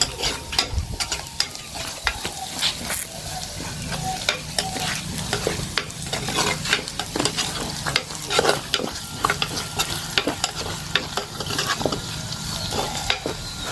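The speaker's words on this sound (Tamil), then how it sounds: "நாங்கள் இப்போ வெங்காயம் கறிவேப்பிலாம் தாளிச்சு எடுத்தாச்சு" Onions and curry leaves sautéing in a pan for a village-style crab curry, with steady sizzling frying broken by frequent scraping stirs, close and continuous with no talk.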